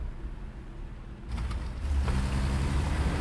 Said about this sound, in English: Did I just hear an engine there?